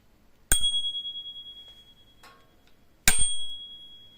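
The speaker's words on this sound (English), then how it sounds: "This is the bell." Bell on a Xiaomi Pro 4 electric scooter rung twice, each a bright metallic ding that rings out and decays over about a second, close and clear in a quiet room.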